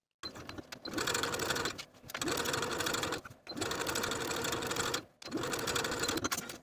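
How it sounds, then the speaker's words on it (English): A sewing machine stitches bias binding onto a sleeveless top in four steady, close-up runs, each broken by a short pause, with no talk. "Sew the opposite side of your binding with a 1/4 inch seam allowance"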